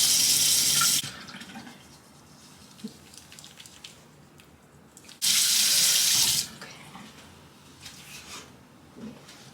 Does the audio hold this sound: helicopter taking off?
no